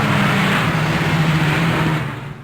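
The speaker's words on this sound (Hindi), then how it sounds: "तभी उसके सामने एक गाड़ी आकर रुक गई" A car approaches with a loud, steady engine rumble that holds for about two seconds, then fades and settles as it stops.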